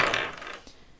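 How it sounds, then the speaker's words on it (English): Astro dice roll across a surface in a short, bright rattle that clatters for about half a second and quickly fades. The sound is close and alone. "I will roll some astro dice for you."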